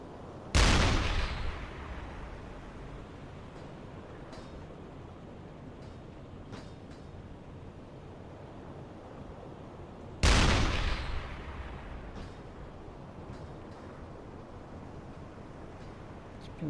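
Two sharp, heavy blasts about ten seconds apart, each decaying into a long rumble, as a submarine in the game UBOAT comes under fire, with quiet ambience between them.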